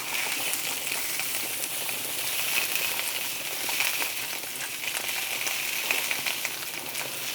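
Thick sausages for bangers and mash frying in a pan, a continuous crackling sizzle with dense fine pops, steady and close throughout.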